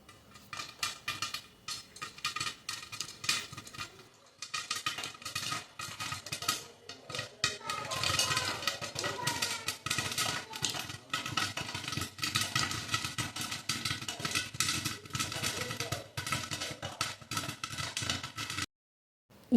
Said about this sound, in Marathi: तर पाहू शकता एक एक दाणे फुटायला लागलेले आहेत